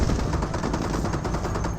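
Rapid bursts of machine-gun fire rattle steadily against Staghound armoured cars in a Company of Heroes battle, a dense, continuous volley of shots with no talking.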